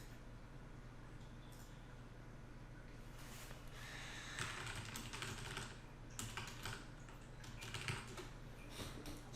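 Quick bursts of computer keyboard typing, a trader tapping keys in clustered flurries of clicks, faint and close in a quiet room, with short pauses between runs and no speech.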